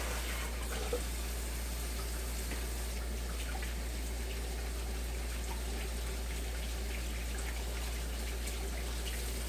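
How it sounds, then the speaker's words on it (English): Hands being washed under a running tap, a steady, even hiss of flowing water that continues unbroken at moderate loudness, with a low hum beneath and no voices. "I'm going to go ahead and wash my hands real quick."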